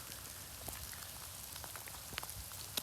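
Light rain falls on outdoor surfaces at a low, steady level, with scattered sharper drops ticking close by and no voices.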